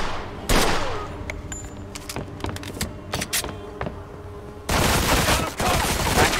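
Sharp gunshots crack in the video game Mafia II, starting as scattered single shots over a noisy combat background and ending in a dense, sustained burst of firing.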